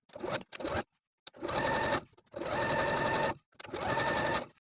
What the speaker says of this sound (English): you can use a twin needle, your cover stitch, or a regular zigzag stitch to secure that hem in place close to the raw edge